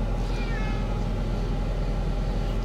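A cat gives a drawn-out meow inside a vehicle, heard over a loud, constant low road rumble.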